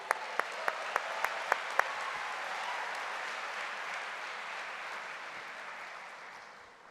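A large welcome-event audience applauds together in a broad, sustained wash of clapping, with a few sharp individual claps standing out early on before the ovation gradually fades toward the end.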